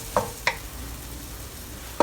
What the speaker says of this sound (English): Stir fry them for a little while, just to get all the fragrance out